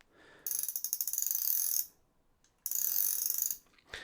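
A small FishingFans Orca spinning reel turns in two bursts, giving a fine, fast ticking whir that is close and clear, with a short pause between the bursts.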